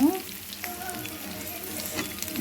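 Chicken fry sizzles steadily in a pan at low heat, a continuous close hiss with faint stirring clicks and no talk.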